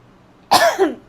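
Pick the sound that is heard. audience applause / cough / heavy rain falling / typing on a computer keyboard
cough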